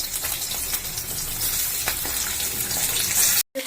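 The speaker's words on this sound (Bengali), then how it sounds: "এবার আমি এর মধ্যে আগে থেকে ওই সেদ্ধ করে রাখা শিমগুলো জাস্ট একটু দিয়ে ওলট পালট করে নেব" Pre-boiled flat beans sizzling in hot oil in a pan as they are tossed, a loud, close, continuous frying hiss with soft stirring scrapes and a brief cut near the end.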